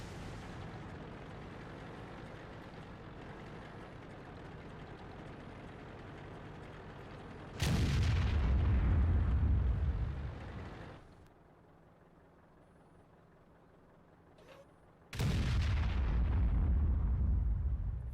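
Two heavy, booming blasts from a KV-1S tank firing large high-explosive shells in World of Tanks, each followed by a long rumbling decay, spaced several seconds apart over a steady engine drone.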